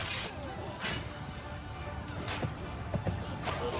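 Horses in the multiplayer medieval combat video game Blood of Steel, with rough clip-clopping hoofbeats and scuffles mixed into busy game noise, under players talking.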